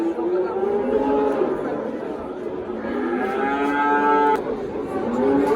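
A cow moos loudly several times in long, drawn-out calls while people chatter in the background at a cattle market in Parkent.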